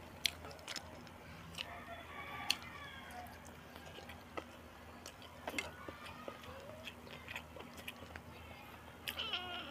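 A cat chewing and biting food nearby, with soft irregular crunching clicks over a quiet background hum.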